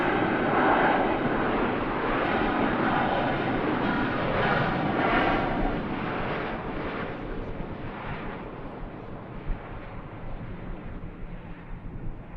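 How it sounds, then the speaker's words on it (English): A Qatar Airways A350 heavy jet roars at Manchester Airport, its broad engine rumble swelling loud and close, then slowly fading as the aircraft moves away. "what could be our final heavy of the show now, the beautiful, beautiful Qatar 350"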